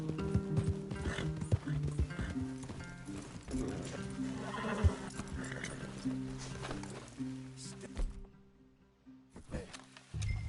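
Horses in the video game Red Dead Redemption 2 neigh and whinny over steady clip-clopping hooves, with mechanical clanks mixed in, loud and busy before dropping briefly near the end.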